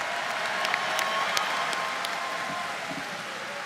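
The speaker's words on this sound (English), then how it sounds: "Please give our golden class another warm round of applause." Applause from the crowd at a university spring commencement, an even, moderately distant roll of clapping with a few sharper individual claps standing out, dipping slightly toward the end.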